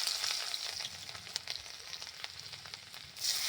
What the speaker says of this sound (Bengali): কড়াইয়ের মধ্যে দেবো রসুন কুচানো